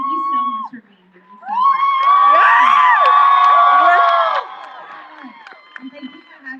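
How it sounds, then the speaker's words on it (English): A live audience at the 2019 Teen Vogue Summit erupts in loud cheering, whoops and shrieks for about three seconds, then fades back to a quieter room. "you're going to clap again because it's Demi Lovato"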